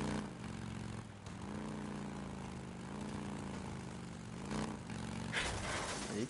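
A motorcycle ridden in the video game Days Gone, already badly damaged, drones steadily and loudly with a continuous engine note and brief shifts in pitch as it rides on.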